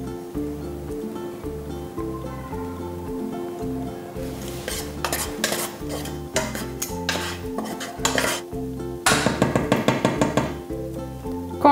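Onion and garlic sweat in olive oil in a pan over medium heat, mostly buried under clinking utensils and the knock and scrape of stirring, with busy rhythmic clatter and a few sharper metallic hits.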